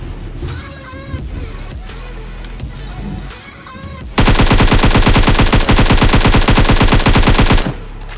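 Rapid automatic gunfire from a PUBG Mobile match bursts in loud and sustained partway through, a dense rattling stream that follows a stretch of quieter game sound.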